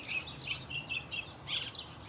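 Birds, including a family with newly hatched young, chirping outdoors in a bright, rapid chorus of high tweets that comes in bursts, fairly faint overall, with no talking over it.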